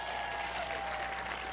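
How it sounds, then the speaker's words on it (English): Applause rises from the audience at a high school class of 2021 graduation ceremony, a brief, even wash of steady clapping heard from a distance with no break. "Let's give them a round of applause."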